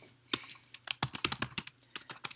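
Rapid, irregular keystrokes on a computer keyboard at close range, clusters of sharp clicks with brief gaps and no talking.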